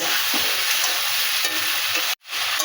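Spices and Malabar spinach stalks frying in a pan while being stirred, a bright, dense sizzle with scraping stirs, up close, briefly cutting out near the end before resuming.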